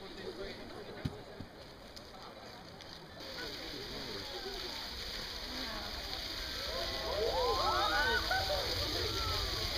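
Water churns and splashes continuously at a New Zealand geyser after soap is thrown in, rising slightly louder toward the end, with people talking over the rushing sound and wind buffeting the microphone.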